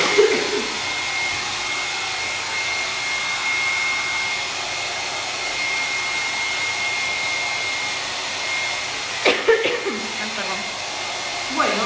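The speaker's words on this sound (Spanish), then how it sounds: "Voy a secar esto un poquito." A hair dryer drying craft paint on a folk-art frost-effect project roars steadily and loudly at close range for most of the clip, then gives way to a few brief knocks and handling noises near the end.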